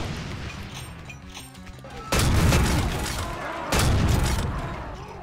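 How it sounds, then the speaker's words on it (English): Sticky bomb launcher blasts in Brutal Doom Project Brutality: two heavy, loud explosions a second and a half apart, each booming and slowly decaying, after a stretch of quieter, busy game noise. "I underestimate the power of the sticky bomb launcher"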